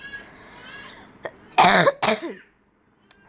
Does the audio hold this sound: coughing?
yes